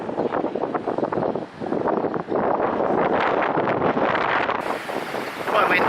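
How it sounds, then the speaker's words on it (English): Strong wind buffets a sailing boat at sea off North Foreland before dawn, a loud, steady broadband roar of gusts over the microphone with water noise beneath, continuous throughout. "Quite windy still."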